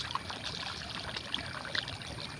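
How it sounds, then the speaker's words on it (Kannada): Rainwater runs down a channel after heavy rain, flowing in from uphill in a steady, close trickling rush with small splashes and no talk. "ಫುಲ್ ಬರ್ತಾಯಿದೆ ನೀರು."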